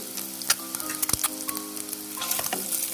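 Quail eggs frying in oil with biryani masala, stirred: a loud, dense crackling sizzle throughout with bursts of spoon scrapes and pops, close up.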